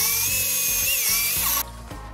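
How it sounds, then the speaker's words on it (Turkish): A power drill whines steadily while boring a hole into the front of an old clothes iron, loud and close, then the motor cuts off abruptly near the end. "Ütümüzün ön tarafından şuradan bir delik delmek istiyorum."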